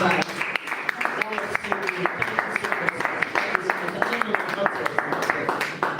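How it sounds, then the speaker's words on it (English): An audience at a business talk applauds with a run of sharp, evenly spaced claps, moderately loud and rhythmic, carrying on through the whole stretch with some talk underneath. "can we have a very big round of applause for that?"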